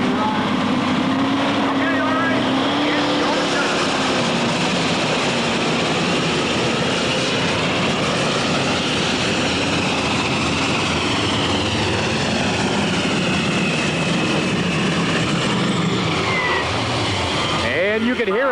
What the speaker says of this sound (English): The alcohol tractors, the engines are a little different. They sound a little different.